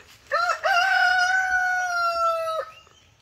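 A Rhode Island Red rooster crows once, close and clear, a drawn-out call with a short opening note followed by a long sustained tone that trails off.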